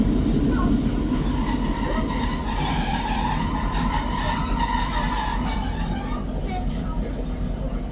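A train rumbles along the rails up close in the Devon and Cornwall countryside, with a continuous roar of wheels and a thin squeal rising above it throughout.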